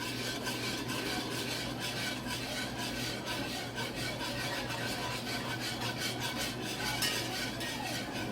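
A whisk scrapes steadily around a pot of seasoned flour sauce, a continuous close rubbing and stirring with a fast, even rhythm and no talk.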